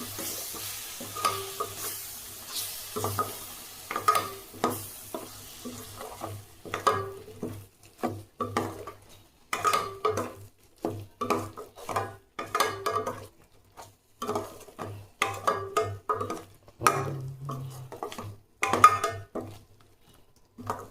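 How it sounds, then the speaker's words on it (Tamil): Ingredients for a green field bean and brinjal kuzhambu sauté in a pan, with a quiet background sizzle and repeated scraping strokes of a spoon stirring at an irregular rhythm, close by and without talk. "அதையும் லேசாக 2 நிமிஷம் வதக்கிக்கலாம்."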